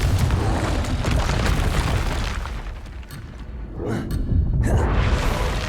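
A Confringo fire spell in the game Hogwarts Legacy bursts with a deep, rumbling blast that rolls on for seconds, followed by further whooshing booms.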